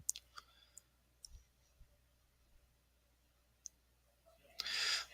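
A computer mouse clicks sharply several times, scattered crisp taps in a quiet room, ending with a brief rustling burst.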